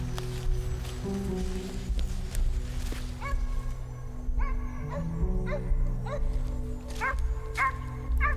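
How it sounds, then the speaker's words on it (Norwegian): A hunting dog barks and yips repeatedly during a roe deer hunt in the Norwegian wild, the calls coming in irregular bursts at moderate distance over a steady low outdoor rumble. "Vi er på rådyrjakt med hunden"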